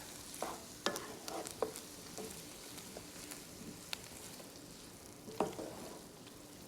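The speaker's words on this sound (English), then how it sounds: "I'm actually just gonna stir it, and that might be enough. Just until the white wine reduces a little bit" A spoon stirs vegetables in a pan as white wine reduces, giving soft scraping clicks and light scattered taps over a faint, steady sizzle, quiet and close.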